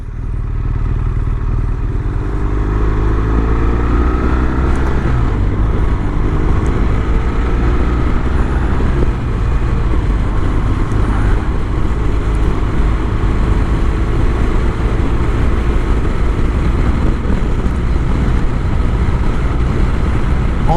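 A BMW R1200 RS motorcycle cruises on a highway with a steady, loud engine drone, deep and continuous, and wind rush close to the rider throughout. No one talks.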